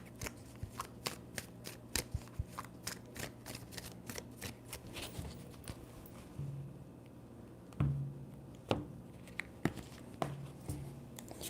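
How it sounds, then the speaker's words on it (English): Tarot cards shuffled and handled up close, a steady run of soft, crisp flicks and taps with a couple of fuller riffles, quiet and alone with no voices. "Three shuffles."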